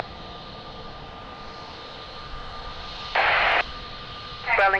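At Lisbon Airport a steady, broad aircraft engine roar holds evenly throughout, joined near the end by a short burst of radio noise and a quick run of electronic beeps.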